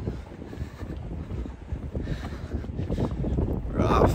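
Wind gusting across the microphone on a walk through the Scottish Highland village of Plockton, a steady low rumbling buffet that swells louder toward the end, close and heavy.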